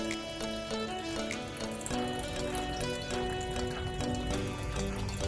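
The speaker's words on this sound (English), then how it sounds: "Let me get some more vinegar in." Vinegar poured into a bowl of sliced potatoes makes a continuous close splashing stream, loud and steady for several seconds, with no talk.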